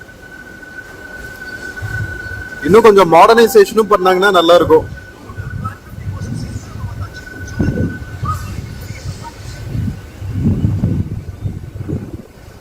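A Coimbatore–Mettupalayam MEMU passenger train runs with a steady low rumble and rattle, a brief loud squeal or clatter burst near the start, while someone talks over it throughout.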